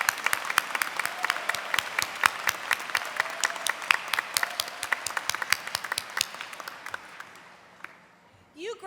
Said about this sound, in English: Let's give a round of applause for those who helped you.